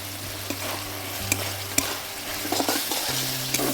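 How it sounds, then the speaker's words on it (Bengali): Spiced masala with chopped tomato fries in a pan, a steady close sizzle broken by scattered scraping clicks as a spatula stirs it, with no talking. "সামান্য পরিমাণ জল দিয়ে দিচ্ছি, মশলাটা ভালো করে কষিয়ে নেব"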